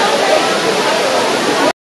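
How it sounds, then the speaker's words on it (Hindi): A water stream flows toward Ramling waterfall near Ramling Temple at Yedshi, a loud, dense, steady rush close to the microphone that cuts off abruptly. "से जो पानी आ रहा था वो बहते हुए यहाँ पे आ रहा है वाटरफॉल की तरफ"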